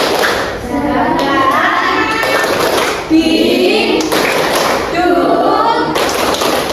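Claps in a steady chant rhythm fill a junior high school classroom in Purworejo, Indonesia, carried by a group of voices and mixed with taps and thumps that run throughout.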